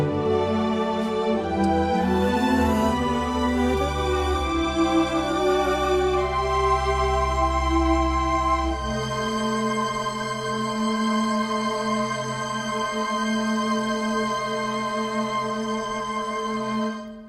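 A sustained muted (con sordino) string ensemble plays soft, held chords that shift and swell, with warm low tones early on and a long smooth sustain, no voices.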